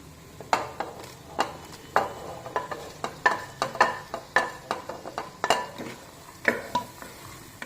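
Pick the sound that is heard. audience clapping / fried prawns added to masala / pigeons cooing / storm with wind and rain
fried prawns added to masala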